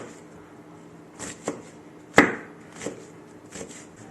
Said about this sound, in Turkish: Nanemizi de yine mümkün olduğunca ufak ufak doğruyoruz.